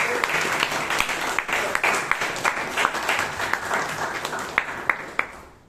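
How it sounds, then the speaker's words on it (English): Audience applause at a Toastmasters club meeting in Bangalore: a room of people clapping steadily for several seconds, moderately loud with a few sharper individual claps, fading toward the end. "please give Girish a big round of applause"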